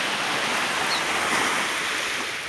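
Sea waves wash onto a beach on the Chonburi coast near Laem Chabang at sunset. The surf keeps up a continuous, fairly loud roar with no pauses and no voices.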